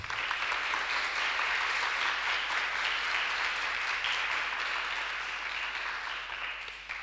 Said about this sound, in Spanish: Le damos la bienvenida y un fuerte aplauso a Juan Manuel Carballeda.